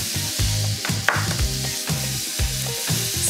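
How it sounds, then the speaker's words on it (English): Radicchio cooking in wine in a pan, sizzling and bubbling continuously with faint stirring scrapes and small pops, close and fairly loud, no talking. "So radicchio goes in the wine separate, okay?"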